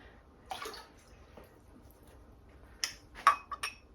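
Paintbrushes used with acrylic paint are swished and rinsed in a water container, giving a few brief splashy bursts and light glassy clinks, close and moderately quiet, with no speech.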